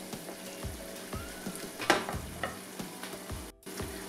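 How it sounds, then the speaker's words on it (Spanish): Paprika and saffron threads frying gently over low heat in a pan, a soft continuous sizzle with light crackles and a few stirring clicks, close and unvoiced. "vamos a dejar un minuto para que se sofría un poquito el pimentón y las hebras se vayan deshaciendo"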